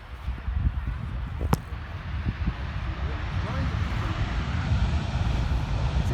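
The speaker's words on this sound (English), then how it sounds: "Here is a Transavia 737 departing to Bergerac." A Boeing 737 airliner departs from Rotterdam airport, its jet engines giving a broad, steady roar that swells gradually over several seconds against outdoor background, with one brief sharp tick near the start.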